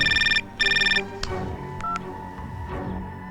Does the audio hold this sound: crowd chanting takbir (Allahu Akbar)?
no